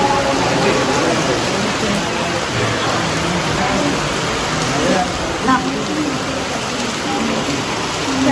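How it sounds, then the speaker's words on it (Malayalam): Light rain falls steadily during a family trip to Sringeri on a cold day, making a continuous, even hiss that stays close and fairly loud throughout, with only a brief louder patter near the middle. "മഴയുണ്ട്, ചെറിയ മഴയുണ്ട്, വലിയ മഴയല്ല."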